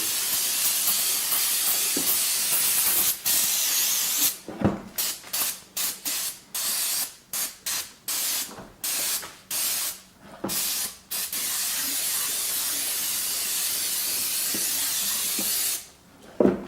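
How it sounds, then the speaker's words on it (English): A spray nozzle hisses loudly and close as cleaner is sprayed on the engine of a 2008 Scion xB with a Toyota 2.4 engine, in long continuous bursts broken by many short stops and starts, with no voices. "Let me spray off the top a little bit too."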